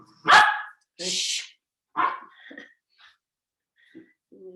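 Several sharp dog barks up close, coming in irregular bursts with short pauses, some loud and some softer, as if two dogs answer each other.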